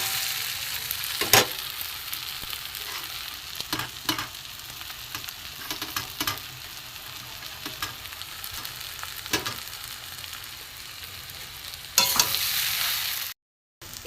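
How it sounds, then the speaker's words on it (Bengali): Boiled potato fries with egg and spices in a pan, giving a steady close sizzle with repeated scraping stirs, growing louder near the end before a sudden cut. "মশলার সাথে ডিমের সাথে আলুটা ভালো করে ভেজে নেব।"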